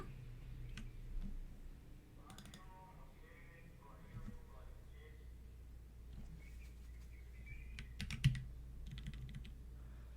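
Light, sparse clicks of keys on a computer keyboard, a few quick bursts of typing at low level, with a quiet voice in the background.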